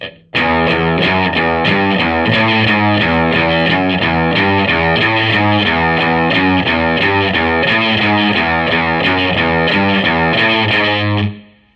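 A gritty, distorted electric guitar plays a bluesy riff, loud and steady with repeating notes throughout, no voices.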